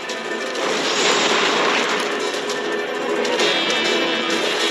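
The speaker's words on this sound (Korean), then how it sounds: "뭐가 어, 폭발했어" An explosion during a chaotic scene involving motorcycles, heard as a loud, sustained crashing roar with rumbling debris that runs through the whole stretch without a clear single blast.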